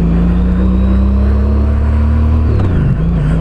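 Another motorcycle rumbles past on the road near a Honda CTX1300 rider, a loud steady engine drone that dips in pitch as it goes by, heard over constant engine and wind noise.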